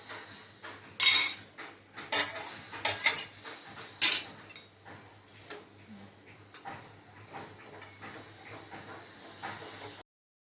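Jackfruit chili, made with chicken chili spice, is scraped and poured out of a metal pan onto a dish, giving a few loud clinks and scrapes of utensil on metal amid softer scraping and a low background hum.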